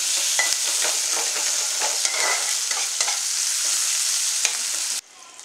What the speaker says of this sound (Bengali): আর সাথে একটু কোচানো পেঁয়াজ, চেরা লঙ্কা এই তেলের মধ্যে দিয়ে দিলাম।